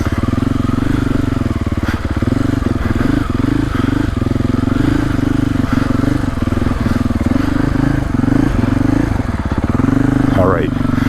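A 2025 Husqvarna FE450 Heritage Edition dirt bike ridden slowly trials-style over rocks and roots by a river, its engine chugging loudly at low revs with small throttle blips and clattering, close up throughout.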